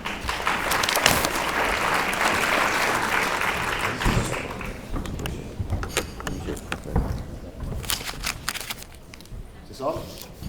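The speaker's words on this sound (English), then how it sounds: "Please join me in welcoming Chris Allen." A conference audience applauds steadily after a speaker is introduced on stage, the dense clapping thinning out after a few seconds into scattered claps and room noise with some voices.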